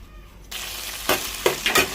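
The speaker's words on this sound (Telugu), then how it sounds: "ఇప్పుడు దీంట్లోనే కొంచెం ఆయిల్ వేసుకొని శనగాకు కూడా వేసేద్దాం" Chickpea leaves dropped into hot oil in a pan, a sudden burst of sizzling after a quiet start, followed by a few sharp stirring scrapes over the ongoing fry.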